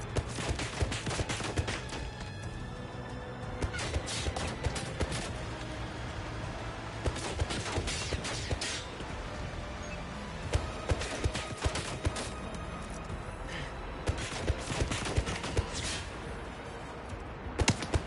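Automated gun turrets in the video game 007 First Light fire long rattling bursts of rapid shots, sharp cracks repeating through the whole stretch with brief gaps between volleys.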